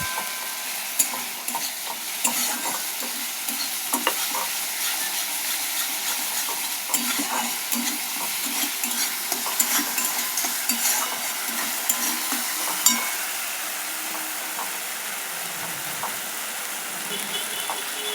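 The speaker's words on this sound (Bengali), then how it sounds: "ভালো করে নেড়ে চেড়ে দিচ্ছি, ভালো করে নেড়ে যত নাড়বে তত ভালো তেল বেরিয়ে আসবে।" Paneer curry masala stirred in hot oil in a pan, a steady close sizzle with scraping spoon strokes and occasional utensil clinks running throughout, no voices.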